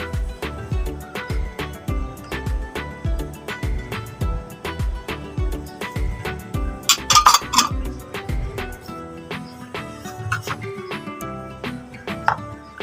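Two eggs being mixed with black pepper and spices in a bowl for a chicken sandwich, giving repeated clinks and taps of utensil on bowl at a steady rhythm, close by, with a person talking over it.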